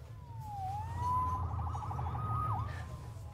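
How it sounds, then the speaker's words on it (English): Police-style siren wailing in the PS4 game Spider-Man, a rising and falling electronic tone over a low rumbling city background, moderately loud and alone without talk. "Saved by the siren."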